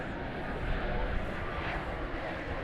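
A Qantas airliner passes at Dallas Fort Worth airport, making a loud, steady broadband jet roar with a heavy low rumble that stays even throughout the short stretch.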